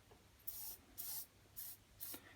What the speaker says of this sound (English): you want to spray a bit and allow that oil to run its way down